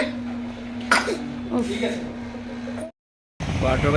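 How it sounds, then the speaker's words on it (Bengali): Someone with a cold gives a couple of short coughs and throat clears close by, over a steady low hum with voices nearby, before the sound cuts out briefly and then returns. "খুব ঠান্ডা লেগেছে কাশি হচ্ছে"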